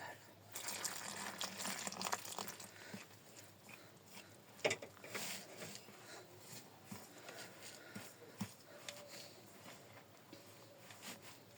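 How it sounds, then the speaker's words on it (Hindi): Water is poured from a tap or jug into paratha dough in a home kitchen, a soft, intermittent splashing and trickling with quiet pauses, fairly faint and up close. "इसमें हम पानी शामिल करेंगे"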